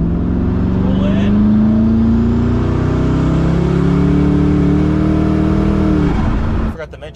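Koenigsegg Regera 1500 hp hypercar with no transmission accelerating hard from inside the cabin, a loud rising engine drone with climbing harmonics for about six seconds before cutting off abruptly.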